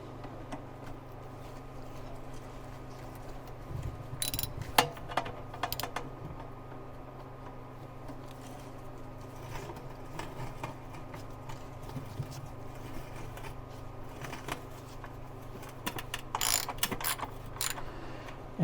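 Bolts on a C3 Corvette transmission pan being snugged down by hand tool in a crisscross pattern, giving scattered light metallic ratchet clicks and taps at close range over a steady low hum, with no talking.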